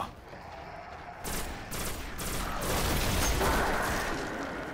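Rapid gunfire in the video game Destiny, several bursts of automatic shots building into a dense, loud barrage over steady game noise.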